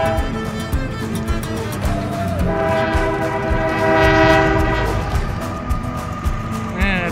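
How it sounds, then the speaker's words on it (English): A northbound grain freight train rumbles past with clattering wheels while its horn blares in long sustained blasts, loud and close, with some voices under the noise. "it's a grain train going north."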